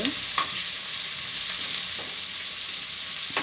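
Ingredients for urad dal chutney sauté in a pan, giving a dense, even sizzle close by with a few faint stirring knocks and no talking.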